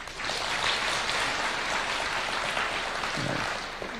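Audience applause at a church leadership meeting held at State House in Nairobi, a steady wash of many hands clapping that fills the whole stretch without talk.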